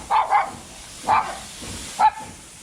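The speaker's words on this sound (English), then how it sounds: "Look at this nice little doggy." A small dog barks on a street in Yeongdeungpo, Seoul, giving a quick double bark followed by two single yaps, close by against low city background noise.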